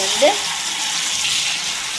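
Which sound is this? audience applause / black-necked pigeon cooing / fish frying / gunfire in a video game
fish frying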